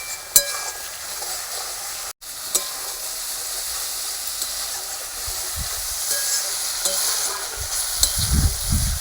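Fish frying in hot oil with spices for doi katla, a steady bright hiss and sizzle throughout with occasional stirring scrapes, loud and close, no talking.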